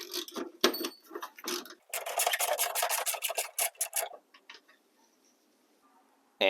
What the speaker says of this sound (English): we're going to remove our first bolt.